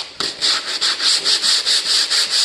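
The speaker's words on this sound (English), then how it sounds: "Kind of a beat up piece of 80 grit." Rhythmic, scratchy strokes of worn 80-grit sandpaper rubbing a plastic car door panel, about a dozen steady back-and-forth passes, close and loud with no talking.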